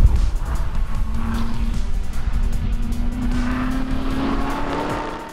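2015 Chevrolet Corvette Z06 driven hard on a track, its engine droning loudly and steadily with a rising pitch under heavy wind and road noise, recorded from inside the car.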